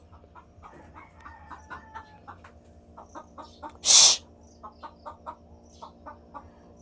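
A chicken clucks in short, repeated bursts close by, with one loud sharp hiss of a hushing voice partway through.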